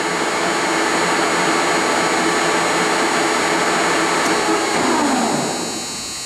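A Lucas 441B-72 table-type horizontal boring mill spindle running at 833 RPM gives a loud, steady mechanical whine and hum near the machine, then slows and fades as it winds down toward the end.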